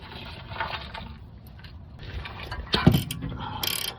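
A ratchet wrench turns counterclockwise on a muffler bolt of a 2006-2011 Honda Civic, giving short clicking mechanical bursts with a sharp metallic clunk partway through, close and fairly quiet.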